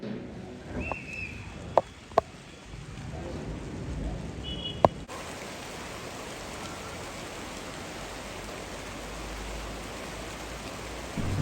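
Unseasonal rain falls at night in Khed near Pune, a soft, steady hiss of rainfall that becomes dense and continuous after a few sharp clicks and quieter moments at the start.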